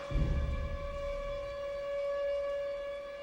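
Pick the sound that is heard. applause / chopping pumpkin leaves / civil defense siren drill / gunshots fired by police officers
civil defense siren drill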